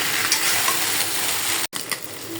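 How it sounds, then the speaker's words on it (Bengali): Continuous oily sizzle of potatoes and eggplant frying in a pan, steady and close, broken by a brief silent gap before the sizzling resumes. "এবার আমি আলু আর বেগুন ভেজে নিই।"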